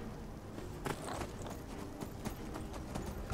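Horse hooves clip-clop in the video game Skyrim, with several sharp, close hoofbeats in an uneven walking rhythm over a low background rumble.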